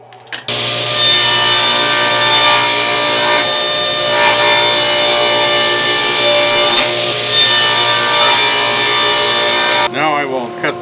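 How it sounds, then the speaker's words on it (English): Table saw ripping 5-inch wood strips for router patterns: a loud, continuous buzzing cut lasting nearly ten seconds with slight surges, then the blade noise changes as the cut finishes. "I've set my fence to 5 inches from the blade. I'm going to cut out 5-inch strips."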